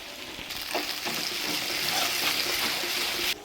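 Whole garam masala, black cardamom, bay leaf and ginger-garlic paste with poppy seeds, cashews and green chillies frying in hot oil, giving a steady, close, continuous sizzle with soft bubbling and no talk.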